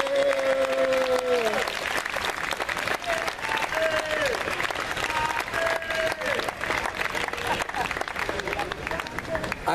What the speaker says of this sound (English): I want to give a round of applause to the wonderful current director of Jazzmobile, Ms. Robin Bell Stevens